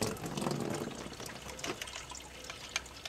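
Water is rinsed over a corroded alkaline battery compartment with the electronics removed, a steady splashing and trickling wash that is loudest at the start and thins to a lighter running flow.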